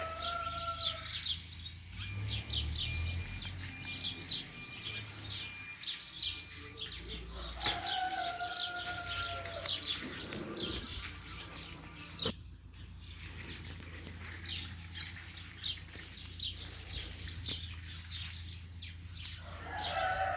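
A pair of geese, one female and one male, are let loose into a garden and honk and call at intervals over soft background noise.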